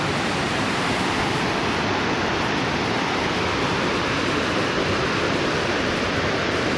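Victoria Falls roars as a dense, continuous broadband rush of falling water, loud and steady throughout with no pauses or voices.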